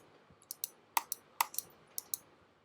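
Crisp, close computer mouse clicks, about nine of them, some in quick pairs, against a quiet room.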